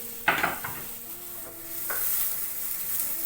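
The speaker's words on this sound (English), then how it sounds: "hot olive oil in a hot pan, light bit olive oil, and I will send my onions here" Chopped onions go into hot olive oil in a hot pan and sizzle steadily up close, with a few scraping stirs and clinks of a utensil against the pan near the start.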